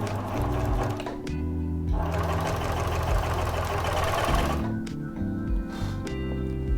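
A Pfaff Tipmatic 6122 sewing machine with its IDT foot stitches in quick rhythmic runs, a close, steady mechanical whir and clatter that pauses briefly and resumes.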